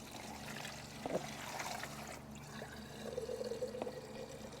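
Water drains and trickles out of a seized motorcycle engine (a GPZ left outside without spark plugs), a steady low pour with a brief splash partway through.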